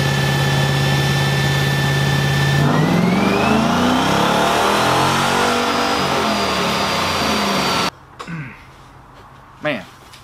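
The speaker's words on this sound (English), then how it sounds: "gotta love a good cammed Hemi." A cammed Hemi car engine revs loud and close with a choppy idle, climbing in pitch through a long pull before cutting off abruptly, followed by a couple of brief bursts of sound in the quiet.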